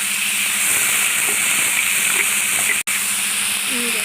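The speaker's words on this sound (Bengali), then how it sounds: "এবার ভেজে রাখা আলুর শাক আর বেগুন আর ছিমটা দিয়ে দেবে।" Pre-fried potato greens, aubergine and flat beans tipped into a hot cooking pan give a loud, steady hiss and sizzle that runs throughout, broken only by a momentary cutout near the end.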